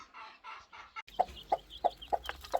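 Broody hen with her newly hatched chicks, giving soft repeated clucks in a steady rhythm of about five close, moderately loud calls after a brief quiet start.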